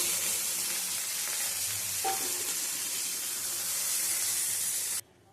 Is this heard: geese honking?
no